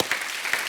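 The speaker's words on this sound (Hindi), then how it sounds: "जोरदार तालियां होनी चाहिए" Studio audience on a comedy talk show breaking into applause, a brief dense burst of clapping.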